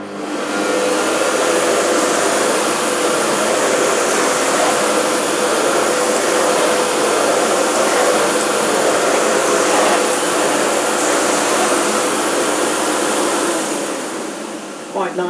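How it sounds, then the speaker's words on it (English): A Bosch Perfecta 85 cylinder vacuum cleaner runs at 1500 watts, a loud, steady close whine with a broad airy roar that holds for about fourteen seconds before easing off near the end. "let's do it on 1500 and see what it's like"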